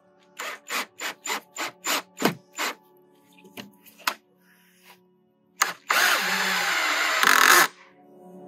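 A power drill driving into pallet wood whirs in a series of short rhythmic bursts, pauses with a few knocks, then runs continuously for a couple of seconds, loud and close.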